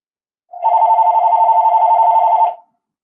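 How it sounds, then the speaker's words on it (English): A telephone rings once, a single steady electronic ring lasting about two seconds, loud and close during a podcast interview, then silence. "I have two phone rings."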